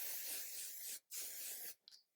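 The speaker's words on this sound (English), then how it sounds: "add a light coat of hairspray on this braid" Two long bursts of hairspray misted onto a side braid, each roughly a second of steady, close hiss separated by a short pause, ending with a faint click.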